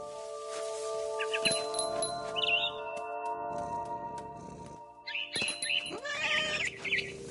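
Two short cat meows sound a few seconds apart over a steady electronic background hum, from the video game What Remains of Edith Finch.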